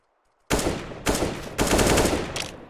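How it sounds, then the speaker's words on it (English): Three bursts of rapid automatic gunfire from the video game CS:GO follow a short quiet start. The bursts are loud and close, each lasting about half a second, with no talking. "Oh, more shots come through."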